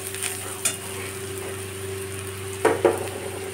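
Onions sizzling steadily in hot oil with turmeric and Kashmiri chilli powder, a constant crackle with a couple of louder stirring scrapes near the end and a faint steady hum beneath.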